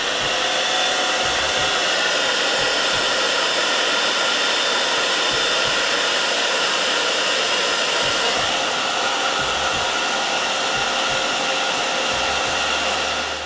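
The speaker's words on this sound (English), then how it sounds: "now we're gonna just blow dry it one more time" A hair dryer blows steadily and loud throughout, drying a glueless lace frontal wig, with a constant broadband whoosh that shifts slightly in tone as it moves.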